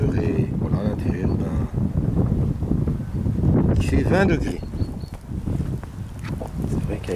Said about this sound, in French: C'est vrai qu'avec le vent, ça renforce encore cette idée de froid.